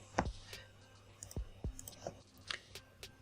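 Sharp computer mouse clicks, several isolated quiet clicks spread unevenly over a few seconds in a hushed room, with faint background noise and no speech.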